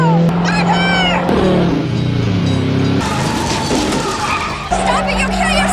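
During a dangerous stunt, a car's tires skid and screech loudly and continuously, under frantic shouting voices and a busy, dense background.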